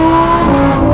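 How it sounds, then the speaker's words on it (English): A Novitec-tuned Lamborghini Huracan STO engine screams at high revs on a tight, twisty track, a loud, close, steady howl with a rising pitch through the brief moment. "Listen to that engine as it howls up to"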